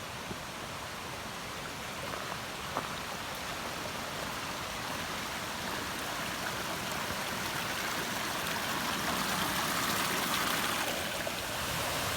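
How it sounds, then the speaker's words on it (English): A small creek runs beside a forest trail in Shenandoah National Park, giving a steady, close rush and babble of flowing water with no voices. "It's just running alongside this little creek, and it's nice and cool through here."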